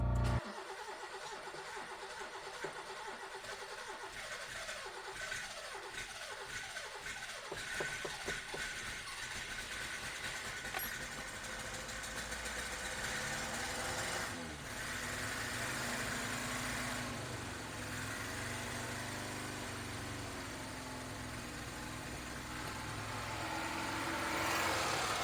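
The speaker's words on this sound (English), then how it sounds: "All right, let's crank this thing." A 1982 Honda Civic engine cranks with a rapid churning starter rhythm, catches and settles into a rough, uneven idle suggesting an exhaust leak or misfire, recorded close without talk.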